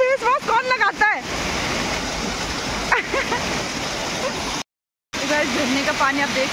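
A clear mountain waterfall on the route toward Kedarnath pours in a loud, constant rushing roar, with people's voices briefly heard over it at the start and end.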